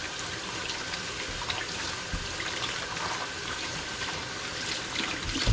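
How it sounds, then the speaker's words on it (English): Tap water runs steadily into a sink during handwashing, a soft, even rush of water that continues throughout at moderate distance with no talk. "gotta wash my hands"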